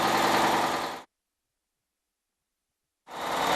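A Cummins engine runs at rated speed with no load, giving a steady dense mechanical roar that cuts off into two seconds of silence before resuming.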